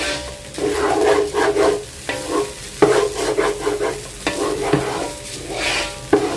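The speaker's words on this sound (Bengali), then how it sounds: "এখানে আমি চালটা কষায় নিচ্ছি" Rice being stir-fried in a pan, rhythmic scraping strokes of a spatula repeating every second or so over a low sizzle, close and fairly loud.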